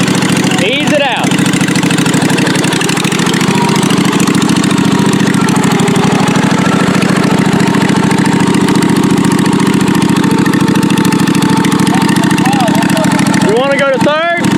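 Murray build vehicle with a small engine running steadily and loudly close by, a constant mid-pitched drone held throughout while it is shifted into second gear, with brief chirps at the start and end.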